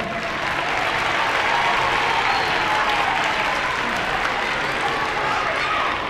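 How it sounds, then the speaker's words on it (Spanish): The audience at a Banda Municipal de Huelva concert claps loudly and steadily throughout, a thick wash of applause from a large crowd with voices faintly mixed in. "vamos a darle también un aplauso a nuestro técnico de luces y sonido, Manuel."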